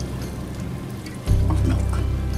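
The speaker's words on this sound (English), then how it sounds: "And I will sprinkle it again with milk." Milk poured over a Surinamese fiadoe fruit cake, a soft liquid pour that starts abruptly partway through and continues as a steady low splashing stream, close and alone.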